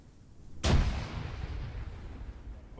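A frag grenade detonates in a realism-focused military squad game: one sharp, loud blast followed by a long, rolling rumble that slowly fades.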